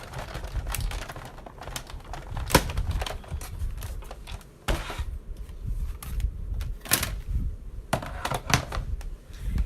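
A die-cutting machine is hand-cranked as the platform and cutting mat feed through it, giving a close series of irregular clicks, clunks and ratcheting knocks with no voices.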